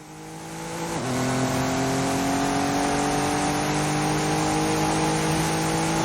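A race car in a racing video game drives at high speed, its engine a loud continuous whine that drops in pitch at a gear change near the start, then holds a steady sustained drone with no talk.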